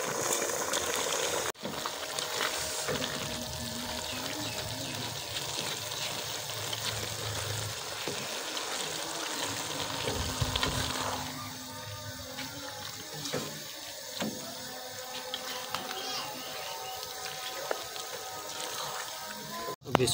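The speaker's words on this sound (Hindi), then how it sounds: "अब इसमें चावल ऐड करेंगे।" Soaked rice tipped into a pot of boiling water while making vegetable pulao: rushing, splashing water, then quieter bubbling and scattered clinks of utensils against the pot, with a brief voice in the background.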